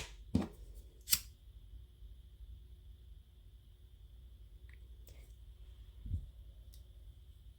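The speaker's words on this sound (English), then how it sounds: "Snip that." Scissors snip thread while finishing a two-color friendship bracelet, giving two sharp close clicks near the start and a softer one later over a quiet background.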